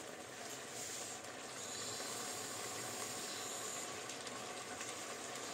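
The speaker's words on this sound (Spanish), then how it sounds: "Le echamos nuestro coñac. Venga, le damos fuego," Cognac flaming and simmering in a large pan while rabbit with mustard is cooked, giving a steady, close hiss and bubbling sizzle with no gaps or talk.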